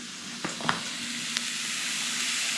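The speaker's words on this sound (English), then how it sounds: "get a sear on the bison backstrap" Bison backstrap searing in a hot pan gives a steady, close sizzle with a few sharp pops and crackles near the start and a soft low hum underneath.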